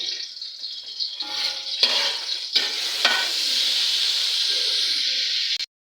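Cumin seeds fry in hot oil in a kadai with a steady, bright sizzle that runs almost unbroken for several seconds. Stirring adds a few sharper scrapes before the sound cuts off abruptly.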